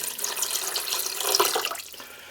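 Water runs from a tap into a saucepan already holding sugar, the start of a syrup, a steady hissing splash heard close up with no talking.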